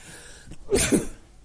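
One short sneeze sounds from a person during a live discussion show, a brief breathy burst that stands out sharply against the quiet room.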